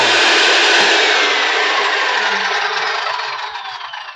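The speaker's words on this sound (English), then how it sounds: "If you just are doing normal sawing, you cut it on, it's going to be loud, so be careful." SawStop table saw running and cutting, a loud, steady whining roar close by that stays strong for a few seconds and then fades slightly, with no voices.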